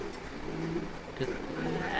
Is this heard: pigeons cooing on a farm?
yes